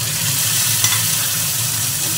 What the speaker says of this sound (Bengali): এবার আমি বাটাটা দিয়ে দিচ্ছি।